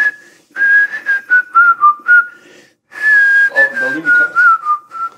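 A man whistles an improvised Turkish taksim, a clear, loud melodic whistle in two phrases of wavering, ornamented notes separated by a brief pause, heard alone up close.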